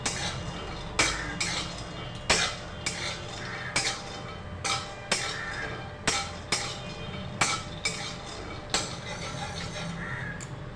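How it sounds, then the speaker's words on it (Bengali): Peanuts dry-roasting in a dry pan are stirred with a utensil, giving repeated sharp scraping clacks roughly once a second over a steady low rattling background, close and fairly loud with no talking. "বাদামগুলো বেশ কিছুক্ষণ নেড়ে ছেড়ে"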